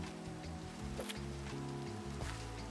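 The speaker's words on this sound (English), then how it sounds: "The rain, the clouds." Rain falls in Minecraft with a steady, dense hiss of drops across the whole stretch, fairly soft and even, while low musical tones play beneath and no one speaks.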